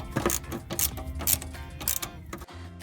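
A bolt on a park brake cable guide is tightened on a Buick LeSabre rear brake job, giving brisk, close ratcheting clicks in short bursts before a brief pause.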